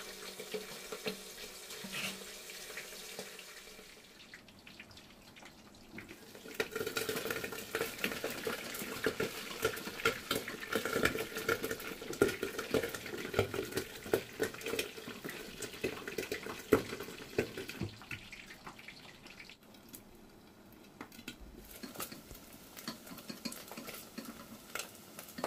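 Hot oil splatters and crackles while sisig fries in a pan, a dense, close sizzle that swells after a quiet start, holds steady for some seconds and then eases off, with no voices.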